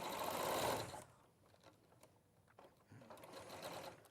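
A domestic sewing machine stitches fabric in quick mechanical bursts. A fast whirring run at the start is followed by quieter clicks and a short pause, then the motor spins up again close by.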